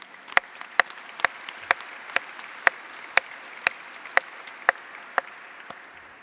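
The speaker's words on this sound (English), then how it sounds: "Please give them a round of applause" Applause for sponsors at a Black History Month kickoff celebration: sharp, evenly spaced claps in a slow, steady rhythm, about a dozen in all, over a quiet room.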